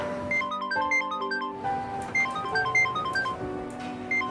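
A mobile phone rings with a bright melodic ringtone, short electronic notes repeating in a bouncing pattern, clear and close in a quiet room.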